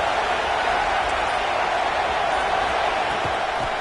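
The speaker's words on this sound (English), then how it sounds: "It's early, but this crowd is fired up. Listen to this noise here." Fired-up stadium crowd at a college football game, a dense, steady roar of many voices holding at high level throughout without breaks.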